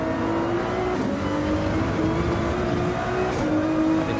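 Ferrari 296 GT3 race car in a racing video game at Abu Dhabi, heard from the cockpit while chasing another GT car: a loud, steady engine drone at high revs with slight pitch shifts and no speech.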